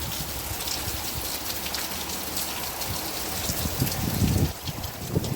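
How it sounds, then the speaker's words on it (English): Storm gusts and driving rain from Hurricane Sally batter a neighborhood near Gulf Shores, Alabama, a steady broadband roar swelling louder near the end. "Oh yeah, that wind picking up."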